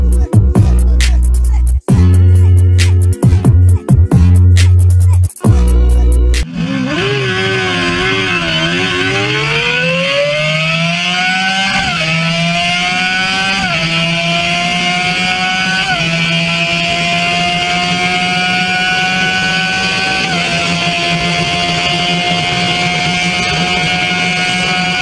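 A Suzuki GSX-R1000 sport bike engine at high speed, a loud sustained whine that climbs steadily in pitch through several gear shifts after a few choppy bursts at the start, with no talk.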